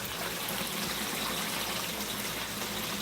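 Water gushing steadily into a newly dug garden pond beside a creek, a constant close broadband rush with no pauses and no voices.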